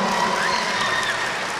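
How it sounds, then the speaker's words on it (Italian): Applause at a youth minibasket Christmas tournament, a continuous wash of many hands clapping in an indoor hall, steady and fairly loud, with crowd noise underneath. "guarda l'applauso"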